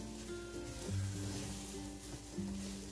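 A semolina and potato mixture cooks in a kadhai, giving a soft, steady sizzle with faint scraping underneath, quiet and continuous, with no talking.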